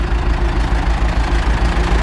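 An Ursus C-360 tractor engine idles steadily with a low, even pulsing throb, running close and alone with no voices.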